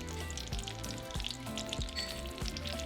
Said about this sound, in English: So once the oil is hot, we're going to add our tomatoes,